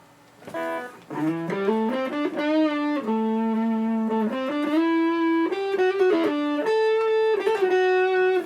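A Jackson Pro Series Monarkh electric guitar plays a lead line on its neck pickup with the tone rolled off, giving a dark, smooth sustained tone; notes bend and glide in a melodic phrase alone.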